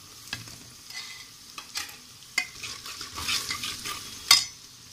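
Onion and curry leaves frying with spices for sambar, giving a steady close sizzle broken by sharp scraping stirs of a spoon against the pan.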